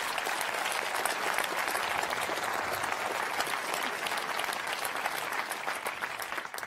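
A crowd at a political speech on France's wealth tax claps in sustained, fairly distant applause, an even roar of many hands with no voice over it.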